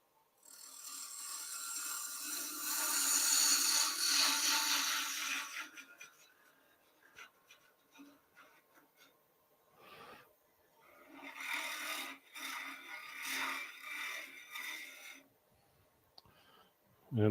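A skew chisel cuts wood on a lathe with a loud, close, sustained rasping hiss at first, then breaks into shorter bursts of scraping and chattering cuts separated by pauses.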